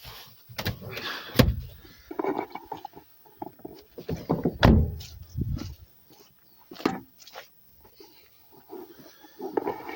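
A Renault Laguna 3 car door opens with clunks and creaks, a series of close, uneven knocks and scraping handling noises with gaps between.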